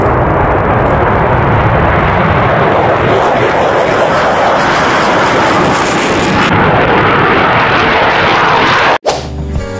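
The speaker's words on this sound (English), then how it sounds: "Pesawat jet." A jet airplane roars past loudly and close, a broad continuous rushing drone that holds steady for several seconds before cutting off abruptly near the end.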